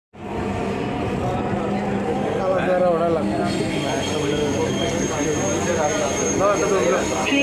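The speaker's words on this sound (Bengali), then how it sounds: "এই মেট্রোটার পরে আমাদের মেট্রোটা চলে আসবে" A metro train pulls into a station in Dhaka, giving a steady, loud rumble and hum throughout while people talk over it.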